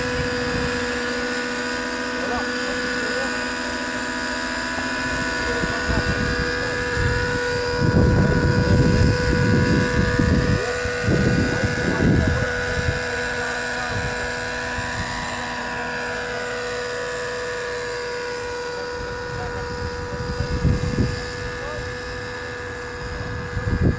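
A Trex 600N nitro RC helicopter flies with a steady high-pitched rotor and engine whine that runs throughout, rising and falling slightly as it manoeuvres, with bursts of nearby talk and handling noise over it.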